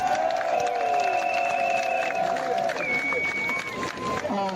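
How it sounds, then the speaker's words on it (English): A talk show crowd roars after being asked to applaud themselves, with sustained shouts and high cheering voices over a dense crowd noise bed, loud and continuous throughout. "Give yourselves a round of applause."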